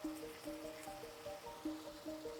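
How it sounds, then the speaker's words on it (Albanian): Pasta cooking water is poured into a pan as a faint, steady trickling stream with small gurgles, heard alone and quietly. "Tash i hedh pak ujë nga ujti i makaronave."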